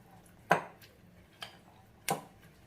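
A spoon scrapes and taps against a bowl while corn chaat is mixed, three sharp separate knocks about a second apart, close and fairly quiet.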